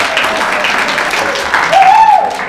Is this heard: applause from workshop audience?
yes